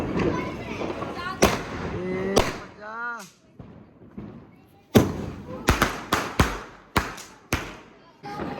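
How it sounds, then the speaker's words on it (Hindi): Diwali firecrackers go off outdoors at night, with sharp loud bangs arriving irregularly, several in quick succession toward the end, while someone talks between the blasts. "आज इतने पटाखे इनके खत्म ही नहीं हो रहे।"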